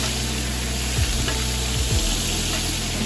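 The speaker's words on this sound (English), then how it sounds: "be sure to turn it on its side, on the small side, so that the sides can cook as well" A filet mignon searing on its narrow side in a hot pan gives a loud, continuous sizzle close by, with a few brief scraping touches partway through.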